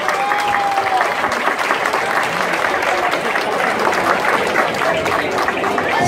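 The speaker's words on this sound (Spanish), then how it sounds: "Fuerte aplauso." Strong, steady applause from a crowd at a sport-fishing tournament awards ceremony in Tabasco, sustained and dense throughout, with some cheering voices mixed in.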